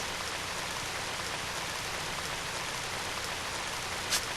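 Continuous rainfall in Radiant Historia, a constant broadband wash of drops hitting surfaces, steady throughout, with one small brief tick near the end and no talking.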